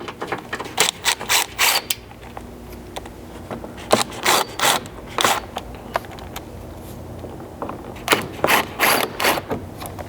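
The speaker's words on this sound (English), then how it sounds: "Using that T30, we'll first remove the 3 screws along the front edge here." Ratchet wrench with a T30 Torx socket loosening underbody screws on a Ford Maverick, giving bursts of quick close clicking strokes separated by short pauses, with no talking.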